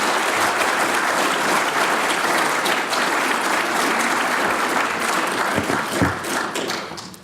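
An audience at the 2016 John Freeburn Lecture in Public Policy claps steadily for a lecturer walking to the podium. The dense applause holds for several seconds, then fades near the end.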